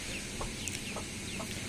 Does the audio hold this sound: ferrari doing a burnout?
no